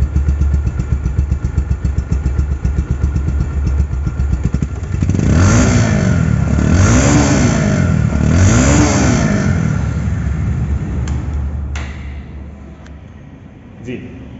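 A nearly new 2023 motorcycle, 600 km on the clock, idles loud and close, revs up and down in two smooth swells, then settles back and fades toward the end, with a voice talking over it.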